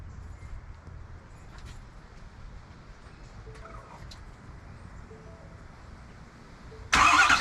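A Ford Super Duty truck engine turns over and starts. A low, steady rumble runs throughout, then a sudden loud, broad burst of sound arrives near the end.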